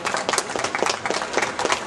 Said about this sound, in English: a big round of applause please for Colin Hargreaves